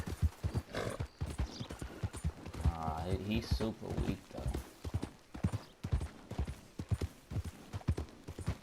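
Horse hooves clip-clopping at a steady trot with a brief whinny partway through, from a horse in the video game Red Dead Online, with someone talking over the hoofbeats.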